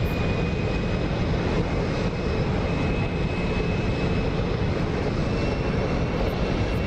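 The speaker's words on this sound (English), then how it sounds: "Let's see if we light the candles again and get a nice supersonic flyby for the Raptor for you guys" F-22A Raptor jet engines roaring in a DCS flight-simulator flyby, a loud, steady, broadband jet rush sustained throughout without voices.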